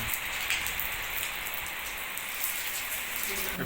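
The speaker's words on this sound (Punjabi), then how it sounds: "ਬਾਹਰ ਪਿਆ ਜੀ ਤਾਂ ਮੀਂਹ ਬਹੁਤ ਪਿਆ" Heavy rain falls outdoors, a dense continuous hiss of drops striking surfaces that stays steady and fairly loud throughout, with no voices over it.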